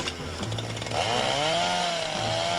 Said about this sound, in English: that is a chainsaw cutting through a wonderful tree